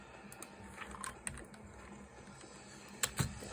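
Keys clack on a computer keyboard being tested, a quiet, irregular patter of separate keystrokes with a few sharper, louder taps toward the end.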